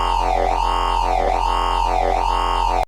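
A Phase Plant synth bass for a riddim track wobbles as its filter sweeps open and closed in a steady repeating cycle, loud and sustained for about three seconds before stopping abruptly.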